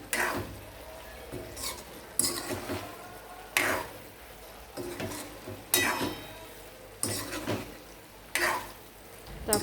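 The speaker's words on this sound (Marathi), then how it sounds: "यात आपण आता फ्राय केलेली भेंडी टाकूया. ती मिक्स करून घेऊया त्यात." Fried okra being stirred into a masala in a pan: a rhythmic series of spatula scrapes and squelches about every second or so over a low background sizzle, close and without talk.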